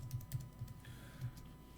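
Short burst of typing on a computer keyboard, a handful of light, quick key clicks at close range in an otherwise quiet room.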